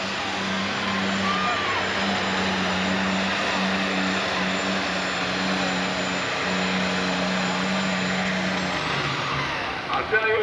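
A super-stock pulling tractor roars at full power during a 1996 United States Hot Rod Association pull in Evansville, Indiana, a loud steady engine drone with a strong low hum that holds for about nine seconds before dropping away.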